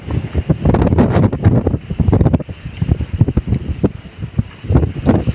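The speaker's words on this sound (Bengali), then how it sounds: "অনেক কাঁপাকাঁপি করতেছে কারণ অনেক বাতাস তো।" Strong gusting wind from a Kalbaishakhi storm at sea aboard a sand-carrying cargo ship, buffeting a handheld phone microphone in loud, ragged bursts throughout, with rough water underneath.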